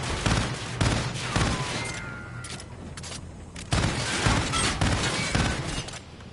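Sustained automatic gunfire from Call of Duty: Infinite Warfare, a loud, dense stream of shots with brief pauses, the player emptying a weapon's ammunition.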